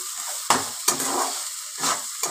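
Cauliflower curry with garam masala is stirred in a pan, close and alone: a soft, continuous sizzle broken by four or five rough scraping strokes of the spoon.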